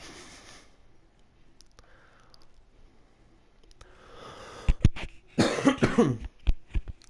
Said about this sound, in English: Oh, this cough is going to be the end of me.